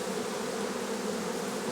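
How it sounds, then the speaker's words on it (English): Honey bees buzzing around an open, well-stocked beehive with brood and honey, a thick continuous droning swarm sound close up, steady and loud with no voices. "Plenty of bees."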